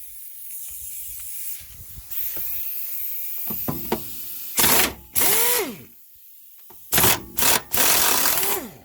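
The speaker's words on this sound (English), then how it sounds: "next we're going to take out these two 14mm bolts here" A ratchet loosens two 14mm bolts on a 1998 Honda Civic's rear brake and trailing arm area, with brief clicking bursts, then several loud close spins and rattles in separated bursts.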